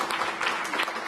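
Audience applause at a national science film festival award ceremony, a brief burst of dense, steady clapping from a sizeable crowd.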